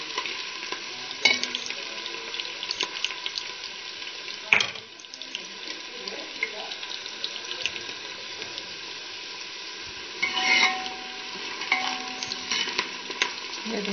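Onions fry and brown in a pan for a spinach and potato dish, a steady close sizzle with stirring scrapes and occasional louder clatters of the utensil.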